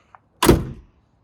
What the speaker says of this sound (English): when I go to shut the car door now